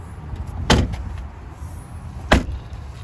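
The powered split folding rear doors of a MINI Clubman 1.5 Cooper Classic give two sharp mechanical thuds about one and a half seconds apart, close by over a low steady rumble.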